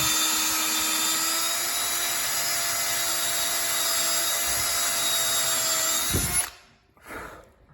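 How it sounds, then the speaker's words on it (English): A power drill whines steadily at a constant pitch while boring a hole into flooring beside stair pickets, then stops abruptly near the end, leaving a brief knock and quiet. "Drill it out."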